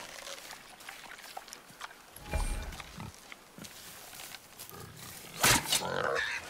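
A wild boar in God of War (2018) lets out rough grunts and squeals, a few separate bursts with the loudest near the end, set against quiet game ambience with occasional voices.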